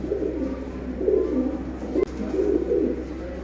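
Lakha breed pigeons coo in low, rolling phrases, repeated twice over a steady background hum, close by, with a brief click in between.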